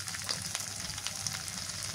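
Onion, green chili and garlic paste frying in a pan for a posto and potol curry, a steady close sizzle with soft crackles throughout.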